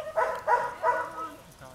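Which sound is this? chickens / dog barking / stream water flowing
dog barking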